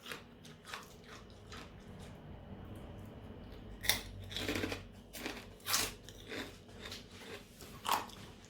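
Someone chews crunchy fried pork crackling, served with a pounded bean salad. It sounds like loud, close, crisp bites and crackly crunches that come in irregular bursts, with no talking.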